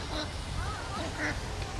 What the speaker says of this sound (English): They talking to one another in duck Albanian language.